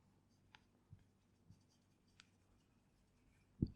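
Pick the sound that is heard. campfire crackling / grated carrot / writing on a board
writing on a board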